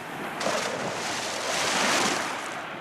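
Ocean waves wash steadily around a big ship at sea, a continuous broad rushing surf that swells and eases over a few seconds, with no voices.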